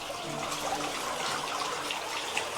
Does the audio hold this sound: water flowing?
yes